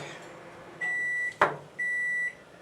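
A microwave oven gives two sustained electronic beeps with a short click between them, clear and alone in a quiet room.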